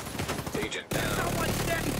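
Turret gunfire in a shooter video game, a sustained dense rattle of rapid shots that bursts in after a short lull, with a voice talking over the first moments.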